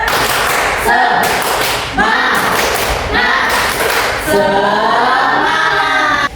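A classroom group does a rhythmic clap chant, bursts of claps in a steady repeated pattern with voices chanting along, loud and close, filling the room.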